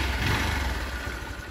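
A motorcycle, started after eight months standing and taken out on its first ride with a nearly flat tire, runs with a steady, close, rumbling engine note that fades slightly toward the end, with no talking.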